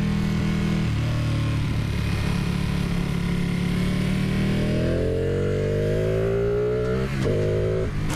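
Ducati 959 Panigale sport bike engine pulling hard under acceleration, its pitch climbing through the gears with quick shifts, loud and steady throughout with no talking.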